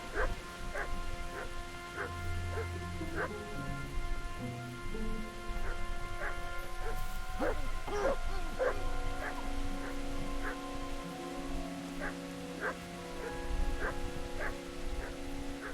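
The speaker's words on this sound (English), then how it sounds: "They have a dog." Dog in the medieval game Kingdom Come: Deliverance barking and yipping in quick repeated bursts, close and fairly loud, over a low droning ambient background.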